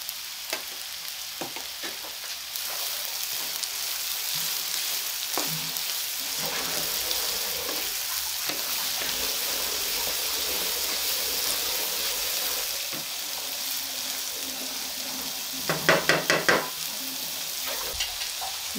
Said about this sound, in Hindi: अब तकरीबन इसको 10 मिनट लगेंगे फ्राई होने में।